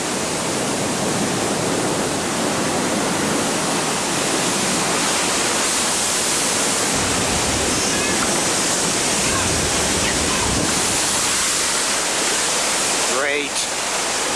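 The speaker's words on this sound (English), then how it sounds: "When it hits land, this mound of water rushes ashore. That's what you call storm surge." Storm surge from a 1995 hurricane rushing ashore: a loud, continuous roar of churning water and wind fills the whole clip, steady and close, with a brief sweeping whistle near the end.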